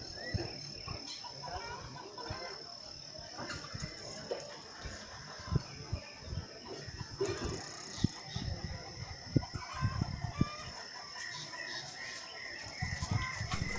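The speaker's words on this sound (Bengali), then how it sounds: "শুনতে পাচ্ছেন কত রকম পাখির ডাক।" Assorted birds call among the quiet hills of Silerygaon, a mix of chirps and clucking fowl over a steady insect drone, mostly moderate and a little distant, with faint voices now and then.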